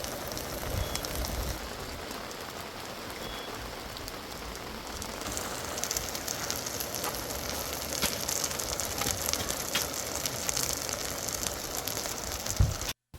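Steady rain patters at a lakeside campsite while Korean pancakes (jeon) sizzle in a pan, a dense, continuous crackling hiss at moderate level with no talk, ending abruptly.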